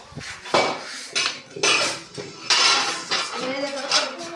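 Metal utensils and pots clatter and clink together repeatedly, close by and fairly loud, in bursts of rattling.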